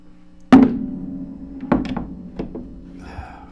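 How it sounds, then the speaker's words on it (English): An acoustic guitar set down on a hard surface gives a sharp wooden thunk, followed by a few softer knocks and bumps as it settles, close and clear with no talk. "So I'm going to put this guitar down, and hopefully I'm not going to drop it."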